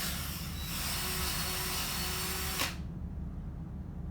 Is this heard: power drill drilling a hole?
yes